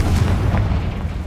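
A Confringo fire spell explodes in Hogwarts Legacy, a single deep low boom with a rumbling tail, loud and close, without any voice over it.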